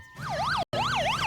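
A cartoon police car siren wails in a loud, close, rising-and-falling pattern, repeating twice with a brief cut in between.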